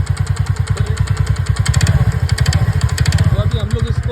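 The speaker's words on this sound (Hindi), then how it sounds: "जैसे कि देख सकते हैं इससे इंजन से बहुत ज़्यादा साउंड आ रहा था" A TVS Ntorq 125 scooter engine runs with excessive noise, a loud, rapid rhythmic chugging and clatter that stays steady throughout, close to the listener.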